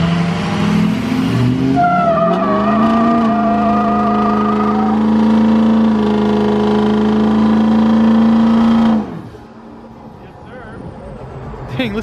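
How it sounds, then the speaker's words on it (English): A Subaru's turbocharged engine revs hard and steadily close by for several seconds, its tone climbing and then holding high before cutting off abruptly to a quieter idle. "listen to that turbo"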